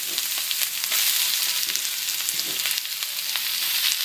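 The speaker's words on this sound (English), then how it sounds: "we put a little more oil in, swish it around, and then we're gonna put in all of the onions" Onions frying in oil in a pan for a spicy beef broccoli noodle dish, giving a steady, dense hiss and crackle with faint stirring scrapes throughout.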